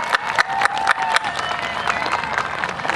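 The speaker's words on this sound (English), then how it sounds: "Let's give them a big round of applause." A graduation ceremony audience applauding, a dense burst of clapping from a crowd that holds steady for a few seconds.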